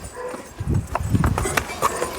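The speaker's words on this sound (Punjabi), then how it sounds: "ਇਹ ਆ ਗੁਰੂ ਦੀ ਲਾਡਲੀ ਫੌਜ ਜੰਗਾਂ ਜੁੱਧਾਂ ਵਾਲੇ ਘੋੜੇ" Nearby war horses of a Sikh Nihang army camp clop their hooves on hard ground in irregular, overlapping steps, with faint voices in the background.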